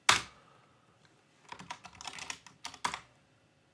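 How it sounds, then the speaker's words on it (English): A password is typed on a computer keyboard in short bursts of quick clicking keystrokes, close by and clear, after a single sharp tap and a brief pause. "Probably typed my password wrong, I'm sure."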